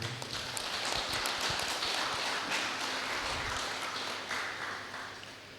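A crowd at a Guru Purnima festival gathering in Bodhan applauds loudly, a sustained dense wash of clapping that slowly fades toward the end, with no speech over it.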